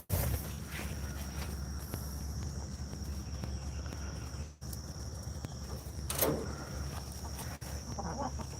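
Chickens clucking in a poultry yard at feeding time during farm chores, a busy, steady background of birds with occasional brief knocks and footsteps.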